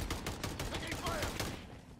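Dense automatic gunfire rattles continuously during a Call of Duty Modern Warfare 3 team deathmatch. The rapid, loud shots overlap with faint in-game sounds.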